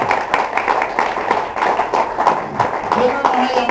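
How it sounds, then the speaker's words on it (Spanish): Congregation clapping during a Spanish-language church service, a dense, steady burst of applause close and loud, with voices mixed in throughout. "otro aplauso al Señor"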